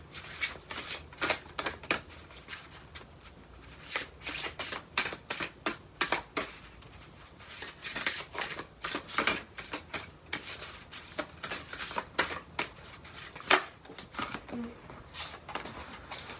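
Cards are shuffled and drawn close up in a quiet room, a run of crisp riffles, flicks and soft slaps in irregular bursts, with a faint voice now and then.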